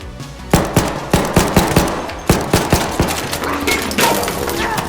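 Gunfire in the video game Arc Raiders: rapid bursts of sharp gunshots fire in quick succession, punchy and loud, with a dense roar between shots.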